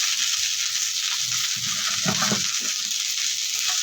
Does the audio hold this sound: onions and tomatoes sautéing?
yes